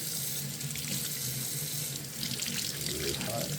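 A kitchen tap runs steadily into a sink while a freshly harvested blue potato is scrubbed of dirt, a close continuous splashing rush with faint handling.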